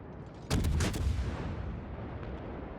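Naval gunfire in World of Warships pounds the Japanese ship Tachiharu, with heavy booming salvos that strike in a quick cluster and then give way to a lingering low rumble.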